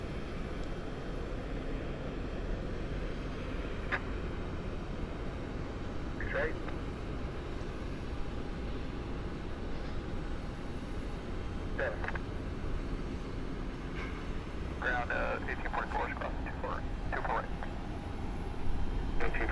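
An aircraft taxis for departure at Cleveland's airport, a low steady engine rumble in the distance, with people talking over it throughout.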